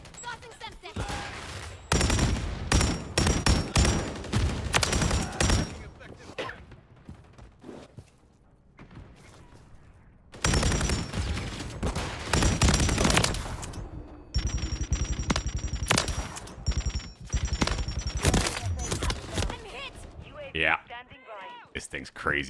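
Bursts of rapid light machine gun fire from Call of Duty MW3 beta, fast automatic volleys broken by short pauses, mixed with game effects and talk over the shooting.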